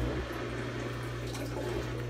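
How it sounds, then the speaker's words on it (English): The drain pump motor of a compact portable twin tub mini washing machine runs with a continuous low hum and watery rush, steady and close throughout. "Sounds like a decent motor for the draining."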